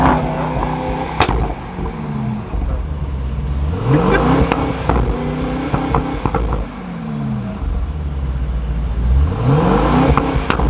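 A chip-tuned Mercedes AMG GT43 engine revs repeatedly, its pitch sweeping up and falling back in several rising pulls, loud and close, with no speech.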